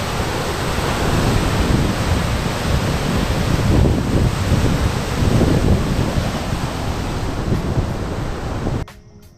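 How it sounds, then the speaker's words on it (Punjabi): Extra water released through the Harike headworks dam rushes in a loud, steady broadband roar, continuous and close, ending abruptly near the end. "ਹਰੀ ਕੇ ਹੈੱਡ ਜਿਹੜਾ ਪਾਣੀ ਛੱਡਿਆ ਹੋਇਆ ਐਕਸਟਰਾ"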